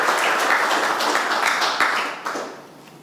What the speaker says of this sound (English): So give her a big round of applause again.